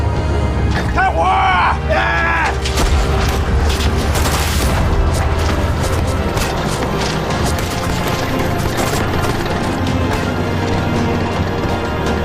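Battle fire from rifles and artillery in a war drama about Chinese volunteer soldiers, heard as loud, continuous booms, crashes and rapid sharp reports, with voices shouting over the din.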